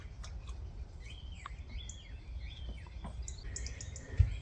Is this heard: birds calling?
yes